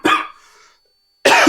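A single hoarse cough bursts out loud and close at the start, trails off into quiet, and a second cough breaks in sharply after a pause, during a biology test discussion.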